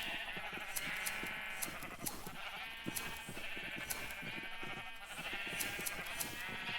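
Sheep in the video game Ancient Kingdoms bleat repeatedly over a steady game ambience, several calls overlapping at a moderate, even level with no talk.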